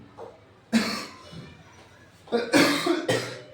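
A person coughs several times in short, sharp bursts, close to the microphone, with quiet pauses between them.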